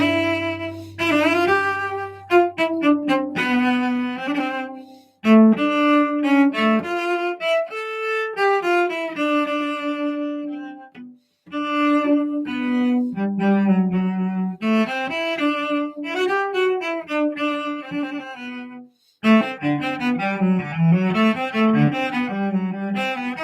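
Solo cello playing Breval's Sonata No. 2, bowed melodic phrases with runs and sustained notes, close and clear, pausing briefly twice between phrases, no talking.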